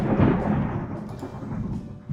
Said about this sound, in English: That was a loud lightning strike.